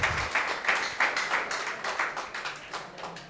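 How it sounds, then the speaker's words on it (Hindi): An audience at a mushaira poetry gathering in Hyderabad, Telangana applauds in rhythmic waves, steady clapping from a moderate crowd that pulses and gradually thins over a few seconds. "ये तमाम लोगों के लिए एक बार आप पुरजोर तालियों से इस्तकबाल करें"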